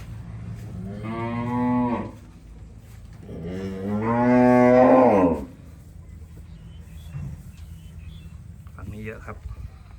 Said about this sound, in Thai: มีวัว อยู่ในคอกนี้ประมาณ 70 กว่าตัวครับ